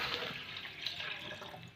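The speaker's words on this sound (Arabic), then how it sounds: "هننزل بالميه المثلجه" Iced water poured into a blender for mango juice, a soft continuous liquid trickle, faint and brief, with no speech.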